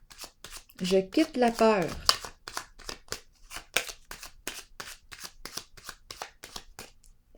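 Tarot cards shuffled and set down on a table, a steady run of quick, close, crisp riffling clicks and slaps, with someone speaking French over them.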